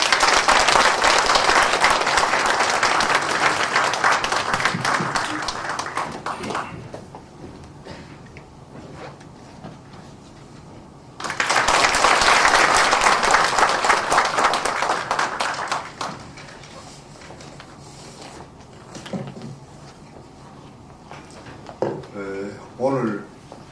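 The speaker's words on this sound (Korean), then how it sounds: "큰 박수 주시면 좋겠습니다." A lecture audience gives big applause as a guest is welcomed to the front, two long waves of loud crowd clapping separated by a quieter stretch, with a voice speaking near the end.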